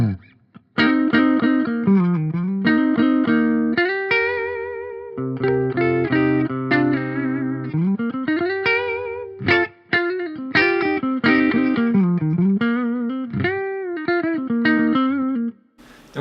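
An electric guitar with a humbucker, tuned down to low C, plays clean rhythm through a Mercuriall Reaxis amp sim in rhythm yellow mode. Chords and short melodic runs ring out loud and alone, with pauses between phrases.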